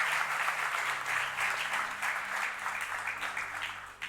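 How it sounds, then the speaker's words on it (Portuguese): A church congregation applauds during a Portuguese-language sermon, steady crowded clapping that holds for several seconds over a faint musical hum, then begins to thin out at the end. "Podes dar uma salva de palmas ao teu Deus?"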